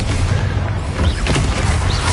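Confringo fire spells blasting in the video game Hogwarts Legacy, a dense wall of booming, crashing explosions rolling continuously and loud with no clear gaps between impacts.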